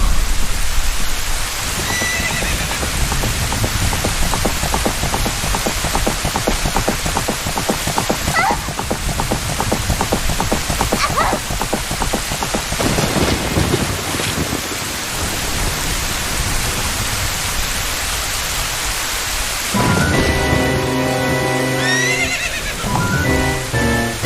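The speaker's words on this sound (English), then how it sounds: "where you see Ganon running out of the castle with the grabbed princess in the rain, and she throws the ocarina, and it's raining" Steady rain pours through an Ocarina of Time cutscene where Ganondorf rides from the castle with the captured princess, a horse whinnies partway through, and a rising musical swell enters near the end.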